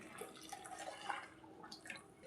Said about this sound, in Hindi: इसके अंदर हम डाल देंगे गरम गरम पानी